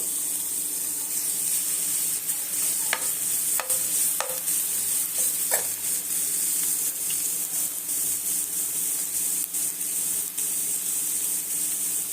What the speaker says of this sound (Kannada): ಈರುಳ್ಳಿ ಹಾಕ್ತಾ ಇದ್ದೀನಿ ದೊಡ್ಡ ಸೈಜ್ದು ಎರಡು ಈರುಳ್ಳಿ